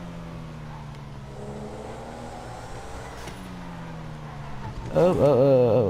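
A Pfister Astrale, a restomod modelled on the Porsche 928, drones steadily through GTA V at constant speed, then its engine note rises sharply near the end as it accelerates. A brief exclamation is heard.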